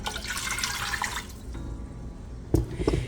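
A full cup of water pours in a steady, soft splashing stream for about a second and a half while pickled watermelon rind is being made in a kitchen, then a few faint drips and a light clunk follow.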